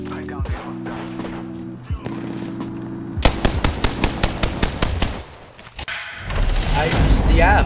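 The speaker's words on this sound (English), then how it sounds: "The enemies are shooting at me." Enemy gunfire in the video game Apex Legends, with rapid automatic bursts of shots, a dense volley in the middle and heavier firing toward the end, loud and close amid other game sounds.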